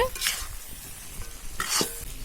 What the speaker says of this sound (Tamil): இது எல்லாமே தனித்தனியா உதிரியா வர்ற வரைக்கும் கொஞ்ச நேரம் இதே மாதிரி பரட்டி விட்டுட்டே இருக்கலாம்